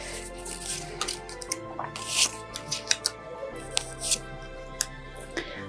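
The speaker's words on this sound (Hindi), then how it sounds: "आइए देखते हैं और निकालते हैं आप लोगों के कार्ड्स।" Tarot cards handled at close range for a horoscope reading, a series of soft snapping flicks and light rustles at irregular intervals over a low steady hum, with no voice heard.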